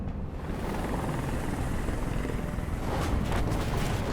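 A helicopter hovers close by during a rooftop hostage scene in Detroit: Become Human, a loud, continuous rotor roar that fills the whole stretch with no talking.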